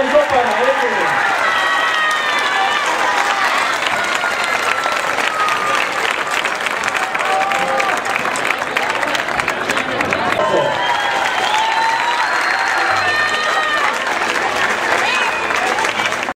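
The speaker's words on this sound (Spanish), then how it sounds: "el aplauso para ellos." A crowd applauds steadily at a tribute event in Santander de Quilichao, dense sustained clapping and cheering that fills the space, with voices calling out above it.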